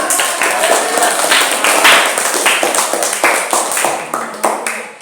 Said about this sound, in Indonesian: anak-anak tepuk tangan untuk kita semuanya